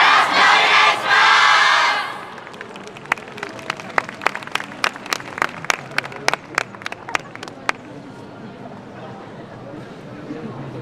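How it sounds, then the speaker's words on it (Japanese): At an outdoor yosakoi dance performance, a crowd cheers loudly before settling into steady rhythmic clapping along, sharp hand claps ringing out in a regular beat over a background murmur, close and lively. "どうかご声援手拍子のほどよろしくお願いします。"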